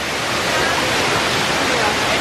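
A waterfall at a zoo rushes in a loud, steady, unbroken roar that fills the whole moment.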